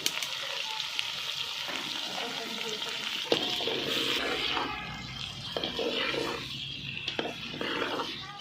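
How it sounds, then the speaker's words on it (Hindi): Potato slices cut katli-style frying with lightly sautéed onions in a hot pan, a steady close sizzle with occasional stirring clatter throughout. "प्याज हल्के से सौते हो चुके हैं तो अभी हम इसमें आलू ऐड कर देंगे।"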